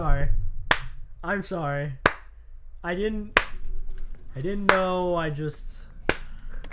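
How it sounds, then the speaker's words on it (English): Sarcastic slow clapping during The Last Of Us: Left Behind gameplay, several sharp, widely spaced claps ringing out between bursts of speech. "That's the sound of me slow clapping for you."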